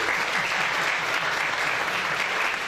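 Church congregation clapping for Jesus, a thick continuous burst of applause filling the room at steady loudness from start to finish.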